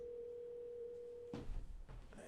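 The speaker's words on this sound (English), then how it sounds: "my computer's ringing" A computer rings with an incoming spam call, sounding as a steady electronic tone that holds for over a second before giving way to brief clattering desk noises.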